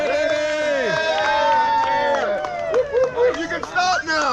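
Crowd noise and voices shouting encouragement to cyclists at the top of a climb during a group bike ride near Boulder, a close, lively mix of cheering and chatter with one voice in the foreground.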